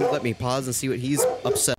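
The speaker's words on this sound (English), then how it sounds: "that's my dog barking" A pet dog barks and yips in short bursts close by, mixed with a man's speech that runs over most of it.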